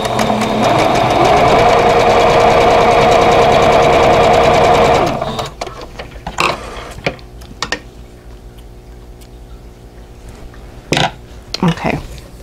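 A sewing machine stitches vintage quilt block pieces in one loud, steady run of about five seconds, then falls silent as scattered fabric handling and small clicks follow.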